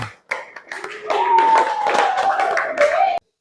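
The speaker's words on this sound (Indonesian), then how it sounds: "Tepuk tangan untuk kelompok 2." A classroom of students claps for a group that has just presented, a short burst of scattered hand claps heard under a sustained voice in the room.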